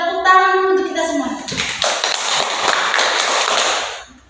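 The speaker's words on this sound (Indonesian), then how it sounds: "Tepuk tangan untuk kita semua." A class of schoolchildren claps hands together, a loud burst of quick, uneven claps that starts after a teacher speaks and runs to the end, nearby and roomy.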